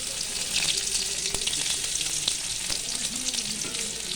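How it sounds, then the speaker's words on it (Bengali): Onion and garlic fry in hot oil with panch phoron while red amaranth greens are being cooked. A steady, close, hissing sizzle runs throughout, broken by a few sharp crackles. "পাঁচফোড়ন দিয়েছি, এবারে পেঁয়াজ রসুন দিয়ে দেবো। পেঁয়াজ রসুনটা দিয়ে দিলাম।"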